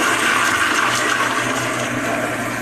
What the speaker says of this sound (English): let's go ahead and give it a test flush